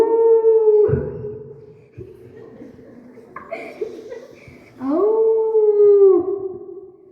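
A person imitates a wolf howl with long rising and falling vocal wails, close and loud, with a pause between two howls, amid some laughter during a classroom drama game.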